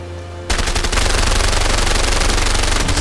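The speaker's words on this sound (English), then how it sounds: "Just unloading so many bullets." Sustained automatic gunfire from the video game A Way Out bursts in after a quiet moment, a loud, rapid, unbroken stream of shots lasting to the end with no talking.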